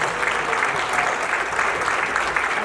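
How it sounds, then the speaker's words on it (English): A crowd applauds panelists at the close of a community panel discussion, a continuous even wash of clapping throughout at moderate loudness. "One final round of applause for our panelists."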